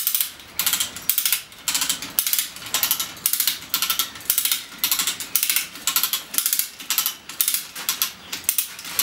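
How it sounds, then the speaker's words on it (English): Power puller ratchet lifting a bonsai tree out of its pot, a rapid series of sharp metallic clicks in regular bursts, close and loud, with no voices. "Now we will lift the tree with help of this power puller."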